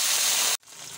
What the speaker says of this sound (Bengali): এখানে এবার রাইস বানানোর জন্য প্রথমে ভেজিটেবলসগুলো ভেজে নেব একে একে। এখানে বিনসটা দিয়ে দিচ্ছি